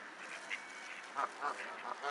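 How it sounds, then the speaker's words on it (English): Ducks quack on a waterside pier in a quick, faint scatter of nasal calls, several overlapping over a quiet background. "So let's get close to these ducks, see what's going on here."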